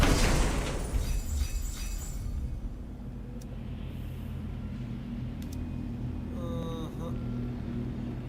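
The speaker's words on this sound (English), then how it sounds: "Slam the ground, create explosion." A ground-slam explosion in the God of War Ragnarok video game, a loud booming burst at the start that fades into a sustained low rumble, with a few brief bright game effects sounding later.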